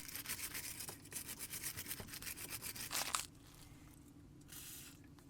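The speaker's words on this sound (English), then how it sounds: "on the other side is a 18mm hex nut, which you want to clean up first and put some penetrating fluid on." Penetrating fluid sprays in quick pulsing hisses onto an 18mm hex nut on a Jaguar X-Type front suspension, a close rapid spray for about three seconds followed by quieter rustling.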